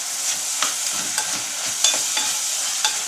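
Onions with added sugar sizzle steadily in a hot pan while a utensil stirs them, with soft scraping taps every half second or so and no voices.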